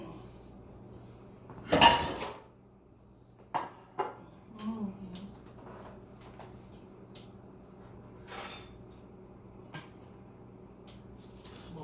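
Plates and dishes are handled in a home kitchen: a loud clatter early on, then scattered lighter clinks and knocks among quiet stretches.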